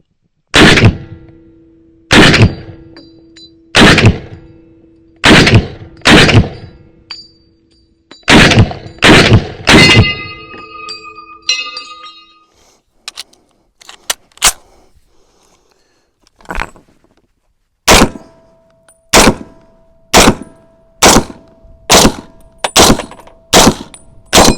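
Loud M1 Garand rifle shots, fired in quick bursts of two to five with short ringing tails, a lull with scattered clinks, then a steady run of evenly spaced shots; no talking.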